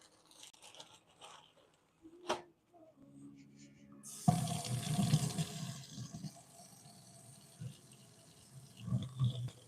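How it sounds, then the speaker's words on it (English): A kitchen faucet runs as onions and green onions are rinsed under it, beginning with a few taps and clunks, then a sudden rush of water that splashes steadily and shifts as the vegetables are turned in the stream. "I'm going to wash a couple of these real quick before we cut the onions."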